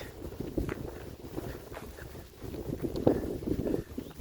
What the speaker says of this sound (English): it's a little breezy